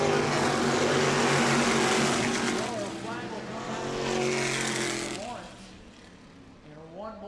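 Race cars lap the New Smyrna short track during a Sunbelt Series heat race, their engines roaring loud and continuous as they pass, with a public-address announcer talking over the noise.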